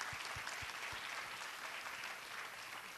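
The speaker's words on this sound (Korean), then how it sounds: "격려와 용기의 박수 보내주시면 감사하겠습니다" Congregation at a Sunday young adults' church service applauding in encouragement: a steady, dense wash of many hands clapping at a fairly faint, even level, with a few low thumps early on.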